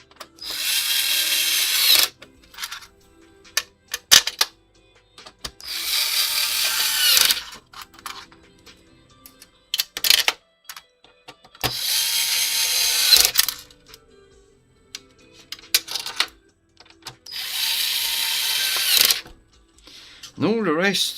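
A cordless drill with its clutch set to 3 drives screws back into an Xbox 360 console: four loud, close whirring bursts of about two seconds each, separated by quiet gaps with small clicks and handling noises.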